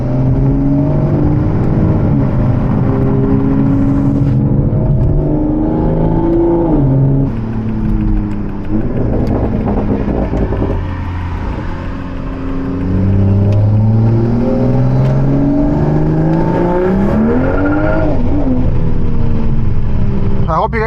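A hybrid turbo Toyota Supra pulls hard, its engine note climbing and dropping through gears in a loud, continuous cabin drone, with a person talking over much of it.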